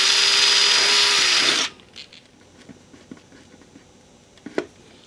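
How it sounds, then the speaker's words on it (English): A power drill whirs steadily for about a second and a half as it bores a small hole in a radio case, then cuts off, leaving faint clicks and taps of handling. "So just drill a little hole in there."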